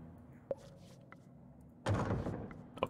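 A closed door kicked in the game Reigns: two quiet, dull thuds, the first a short knock and the second a fuller impact that fades briefly, with near silence between.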